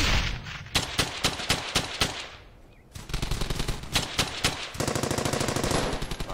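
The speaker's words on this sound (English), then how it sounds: "Fire on that MG!" Sustained machine gun bursts in a World War II shooter, loud, rapid rhythmic volleys with a brief lull midway before heavy automatic fire resumes, dense and close throughout.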